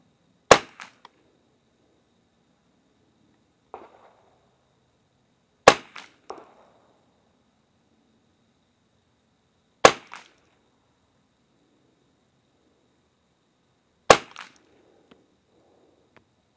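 Four sharp rifle shots from a Remington .22 fire at a target, evenly spaced about four seconds apart, each a crisp close crack followed by faint mechanical clicks of the action.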